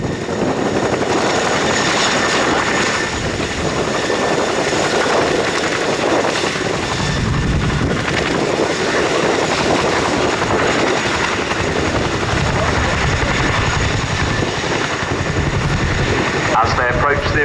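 A Chinook helicopter performs a role demonstration display at RAF Cosford, its rotors producing a loud, dense, continuous roar throughout, with a commentator talking over it.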